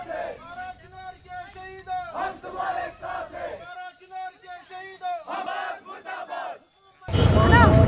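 A crowd of protesters at a rally at Nowgam Chowk in Kashmir chants slogans in loud, rhythmic unison, call-and-response bursts separated by short pauses, ending in a sudden burst of noise.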